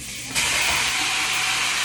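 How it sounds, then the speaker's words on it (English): A sudden loud sizzle bursts in and holds as a steady, bright hiss, steak bites hitting a hot pot on medium heat, close up with no speech. "You hear that sizzle?"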